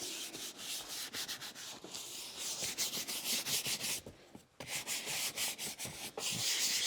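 A brush scrubs car seats in a crosshatch pattern during a detailing job, making rapid, rhythmic rubbing strokes up close that pause briefly and then resume.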